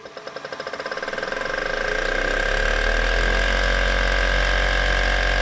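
A multi-axis machine cuts a twisted metal workpiece, starting with rapid pulsing that quickly rises into a loud, steady whine with a strong tonal hum, close and without talk.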